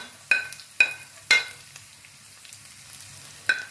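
Cardamom and garlic drop into hot oil for a lemon pickle, giving a few sharp, close crackling pops spaced about half a second apart over a faint low sizzle.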